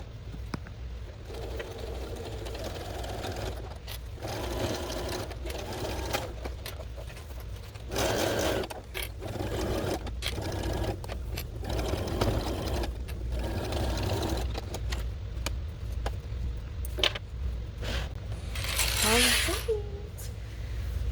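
A sewing machine hems the bottom of a homemade Boo costume from Monsters, Inc., running in repeated bursts of rapid stitching with pauses between, while someone talks over and between the runs.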